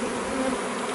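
A swarm of honey bees, about five or six frames' worth, being caught into a hive box, gives a dense, continuous close-up buzzing with no break.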